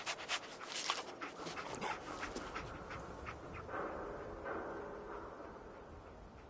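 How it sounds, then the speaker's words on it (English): Dogmeat, the companion dog from the video game, pants quickly and breathily up close, a steady huffing rhythm with faint rustling around it. "Dog meat. Get the scent, boy."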